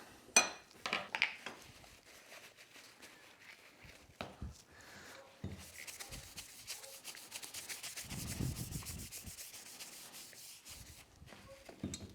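In a woodworking shop, a cloth wipes protectant over a hand plane's blade and chip breaker. Quiet rubbing and scraping strokes come with a few sharp metallic clicks and taps, close and isolated, and a longer smooth wiping passage follows.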